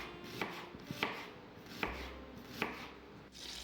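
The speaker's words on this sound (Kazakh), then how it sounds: "Пияз турап аламыз. Осылай жіңішке етіп турап шығамыз." A knife slices an onion thinly on a cutting board, giving about half a dozen crisp, close chops at an uneven pace with no talking.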